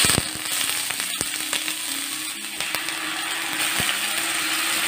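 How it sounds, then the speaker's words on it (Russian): Vegetables fry in olive oil in a pan over medium heat, giving a dense continuous crackling sizzle with scattered sharp pops and clicks and no voices. "Обжариваю их около 8 минут на среднем огне."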